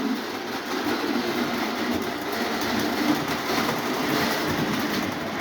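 A Lionel Wabash diesel model train pulls a line of beer-branded cars, giving a steady, continuous rolling rumble with a faint rail clatter throughout, close and even in level, with no talk.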